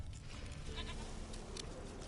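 A goat bleats in The Witcher 3, its short calls rising briefly over a steady bed of game ambience and background noise, with no speech.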